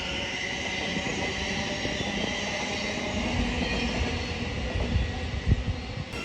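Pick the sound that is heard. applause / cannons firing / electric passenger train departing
electric passenger train departing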